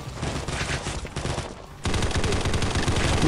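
Rapid automatic gunfire in the battle royale video game Combat Masters, a dense continuous stream of shots that briefly drops off and then resumes louder, close and intense.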